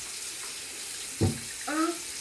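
Warm water runs from a tap into a sink during home caregiving, a steady hiss with a brief thump and a short voiced sound over it.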